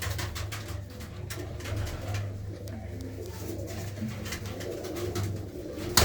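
Red-patterned pet pigeons on a large Punjab farm coo steadily and softly throughout, a low repeating throaty murmur close by with no talk.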